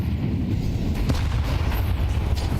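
Gunfire from a professional Counter-Strike match at the IEM Cologne 2024 tournament, dense and continuous: rapid overlapping shots and booms forming a steady loud wash with no gaps, and no voices.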